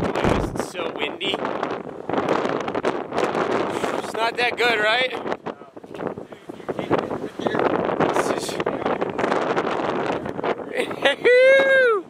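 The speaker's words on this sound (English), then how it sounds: "It's so windy." Strong gusty wind at the beach buffets the microphone in loud, rough bursts while people talk over it; a whistle-like tone rises near the end.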